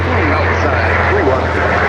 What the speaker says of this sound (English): Nice little helicopter coming over top.